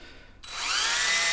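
Drilling machine spinning up from near silence into a steady, rising high whine that holds loud and close, with faint tonal harmonics sliding as it reaches speed.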